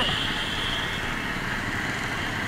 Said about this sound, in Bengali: প্রচুর বাইকও চালাচ্ছে